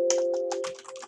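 Keys on a computer keyboard are tapped in a quick, irregular run of clicks, close and fairly quiet over a steady low electronic hum.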